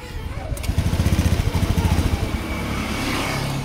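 Small motorcycle engine sputtering and popping unevenly as it struggles to start, a rapid irregular putter that steadies into a rough idle, loud and close.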